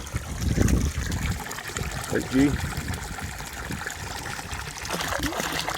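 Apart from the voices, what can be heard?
spring-fed water trickling into cattle trough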